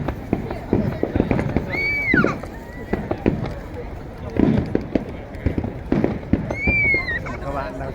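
A fireworks display at a Tokyo festival in July 2023 cracks and pops in rapid, uneven bursts at a middle distance, with crowd noise and a few whistling rises mixed in.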